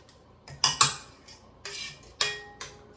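A utensil works slightly firm unsalted butter in a bowl for white chocolate macadamia nut cookie dough, giving a handful of sharp, close clinks and scrapes in uneven bursts with short pauses between.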